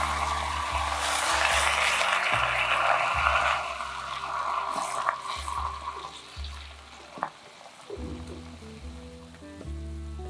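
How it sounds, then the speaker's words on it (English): White wine is added to a pan for a saffron sauce and stirred gently, giving a soft, close sizzle and quiet liquid bubbling with faint stirring scrapes. Background music plays throughout. "Add the white wine and stir it gently."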